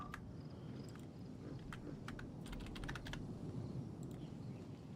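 Typewriter keys clack in Genshin Impact, a quick uneven run of sharp taps that bunch together in the middle before thinning out, heard clearly over a low ambient hum.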